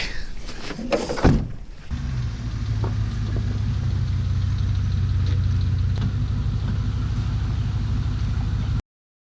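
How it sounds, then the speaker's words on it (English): A Dodge Ram truck engine turns over and settles into a low, rumbling idle, with a few slight revs, close by and steady. "it's running, revving up a little bit here and there"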